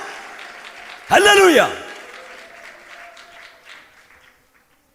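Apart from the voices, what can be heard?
congregation clapping hands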